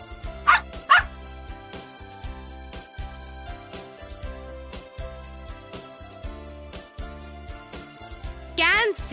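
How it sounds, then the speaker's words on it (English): A dog barks in a short double burst near the start and once more near the end, against steady background music in a children's science lesson about animals and their ears. "Dog."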